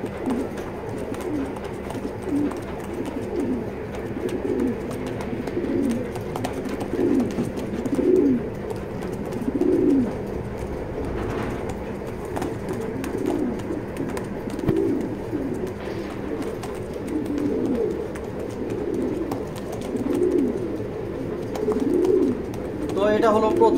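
A racer pigeon chick released from a loft coos repeatedly in soft, rhythmic low calls, with other pigeons nearby and a person talking throughout.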